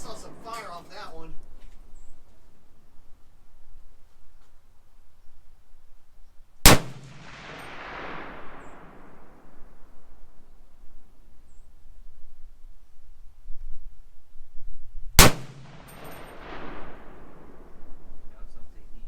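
.308 rifle ammunition is fired in two single sharp, loud shots about eight seconds apart, each with a ringing decay, while people talk around them.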